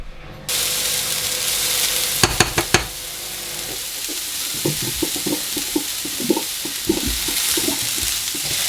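Vegetables fry in a pan with a continuous hiss, broken by a short run of sharp clatters and then irregular popping and scraping as they are moved around.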